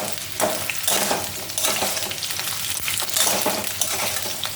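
Pointed gourd (potol) pieces fry in a pan with loud, steady sizzling, broken by repeated stirring scrapes and rustles at an uneven rhythm.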